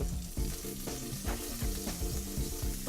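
Pork tenderloin sizzles in a hot pan, a dense, continuous frying hiss with rhythmic pulsing crackles, close and steady with no talking.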